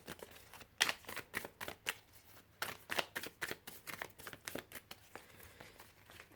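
Tarot cards shuffled and drawn by hand, a quick run of crisp riffling snaps and soft slides repeating steadily at close range, with no talking.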